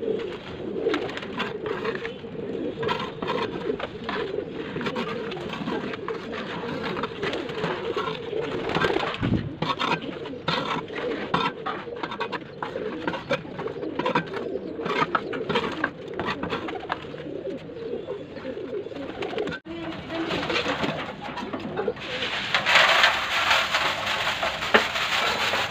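Pigeons coo continuously in overlapping low, throaty calls, joined by occasional rustling and fluttering, with a brighter hiss near the end.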